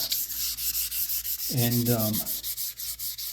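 Swamp ash being hand-sanded with 400 grit sandpaper: a single brief, close rubbing stroke of under a second against a quiet background hum.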